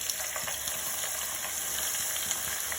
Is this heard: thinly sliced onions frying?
yes